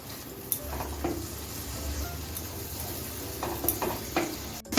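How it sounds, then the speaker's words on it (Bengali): Spice paste for aar fish kalia stir-frying over medium gas in a pan, a steady low sizzle broken by several soft scraping stirs and light clinks of utensil on metal. "এখন আমি বানিয়ে রাখা পেস্টটা দিয়ে দিচ্ছি পেস্টটাকে আমি গ্যাসটা নতুন মিডিয়ামে কোনো মতো নেড়ে নেড়ে চেড়ে তিনের থেকে চার মিনিট একটু কষিয়ে নেবো"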